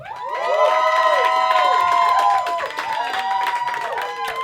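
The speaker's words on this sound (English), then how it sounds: "Now clap it up if you think Britt Miggs won this battle" A comedy roast battle audience claps and cheers loudly, with shouts and whoops rising over steady applause that continues throughout.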